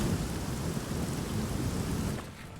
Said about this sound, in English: Suddenly there's a storm.